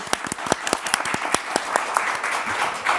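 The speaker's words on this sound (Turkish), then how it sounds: "teşekkür ederiz efendim kıymetli alkışlarınıza" Studio audience applauds on a Turkish game show, Alfapetek, with sharp close claps over a dense wash of clapping that holds steady and loud, softening slightly toward the end.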